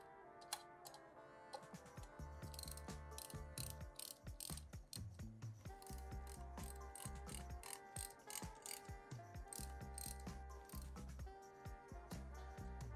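A hand ratchet clicks in quick, close bursts while tightening the wheel bolts on a Harley-Davidson Sportster motorcycle, with rapid pawl ticks repeating throughout.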